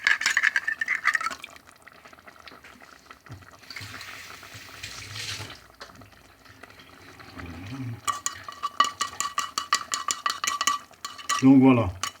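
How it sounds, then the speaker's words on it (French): Stirring tomato concentrate into tomatoes in a cooking pot, with scraping spoon strokes against the pot and a rapid run of rhythmic clinking and sloshing near the end, close and moderately loud, no voices. "je vais tourner le concentré de tomate pour qu'il se délaye dans toutes les tomates"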